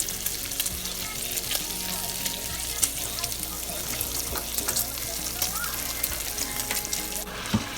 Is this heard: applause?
no